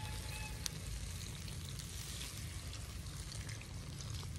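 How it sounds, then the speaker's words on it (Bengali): Hot water is poured into a simmering fish curry with radish, a faint continuous hissing and sizzling wash with no voices. "এবার আমি গরম জলটা এতে ঢেলে দেবো।"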